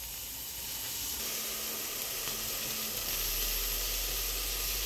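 Steady soft sizzle of cherry tomatoes cooking in a pan for a chutney, a continuous low hiss with no talking.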